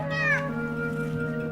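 A cat lets out a single loud, close meow that bends downward in pitch, followed by a steady tonal hum in the background.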